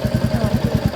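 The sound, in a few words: motorcycle engine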